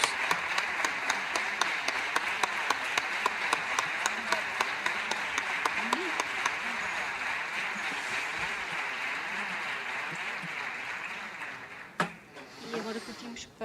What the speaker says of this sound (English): A big show of hands to them, a big round of applause